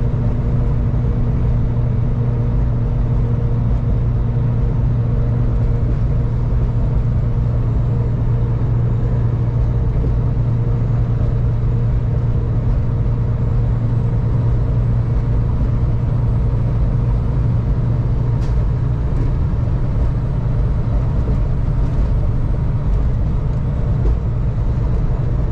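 A truck rumbles steadily over a rough, badly broken road, a continuous low engine and road drone lasting throughout with occasional faint rattles, loud and close, no talking.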